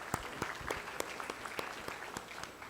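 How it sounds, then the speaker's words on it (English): A conference audience applauds during a felicitation at a plenary session: soft, fairly sparse claps, some sharp hand strikes standing out, heard from a distance at low level. "Big round of applause to Yuva Dayal."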